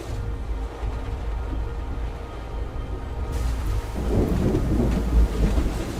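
A thunderstorm with rain in the video game Syberia: The World Before, with a low rolling rumble under steady rain that swells into heavier, closer rainfall and deep thunder.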